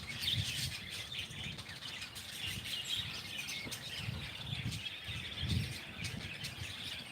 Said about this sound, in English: The birds are a little bit noisy.